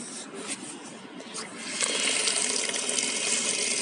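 Tap water splashing and gushing into a sink during hand washing outdoors, a steady loud spray that grows fuller partway through, with children faintly audible in the background.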